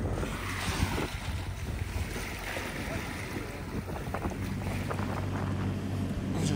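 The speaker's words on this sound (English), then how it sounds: "Those are some big waves." Big sea waves off a rocky volcanic coast in Scandinavia, heard from aboard a boat as a steady wash of surging water and gusty wind buffeting the microphone, moderately loud and continuous throughout.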